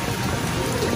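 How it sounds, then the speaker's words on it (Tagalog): Heavy rain pours down in a dense, continuous hiss of drops on surfaces, with a voice faintly present beneath it. "lakas ng ulan"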